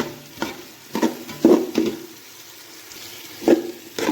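Green peppers sizzling in a pan as they are stirred for empanada filling, with several distinct scraping strokes spaced over a soft, steady frying hiss and no talking.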